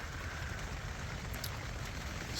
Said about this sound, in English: It started raining like an hour or two ago.